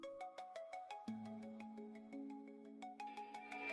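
A phone ringtone plays a bright electronic melody of repeating tones, moderately loud and clear, with no voices.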